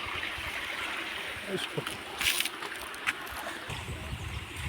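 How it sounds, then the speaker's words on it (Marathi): Water is scooped and tossed by hand out of a small summer pond during traditional eel fishing in the Konkan, heard as uneven nearby splashes and sloshes over a low, rushing wash. "तर नानू तिकडे उपसतोय, मी इकडून उपसतोय बघा इकडे."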